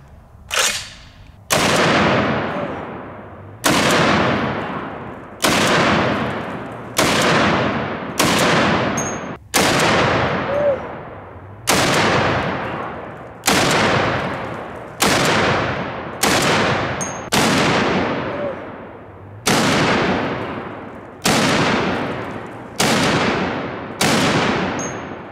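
About fourteen loud .50 caliber rifle shots fired into heavy bags, each a sharp, booming crack with a long decaying tail, spaced roughly every one to two seconds with no talking between them.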